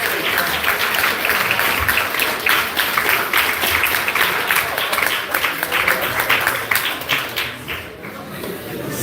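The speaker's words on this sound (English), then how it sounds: "A round of applause for the oshidashi" Audience applauding a sumo oshidashi push-out demonstration, steady dense clapping that stays loud and even for several seconds, then thins slightly near the end.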